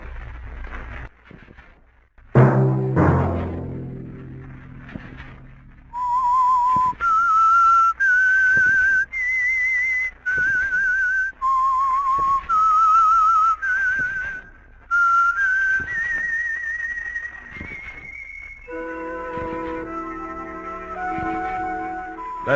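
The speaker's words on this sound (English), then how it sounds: "Let that whistle be your signal for the Whistler each Sunday night at this same time." A lone whistler performs the theme melody of The Whistler radio show, a clear string of rising and falling notes. Orchestral music swells in near the end.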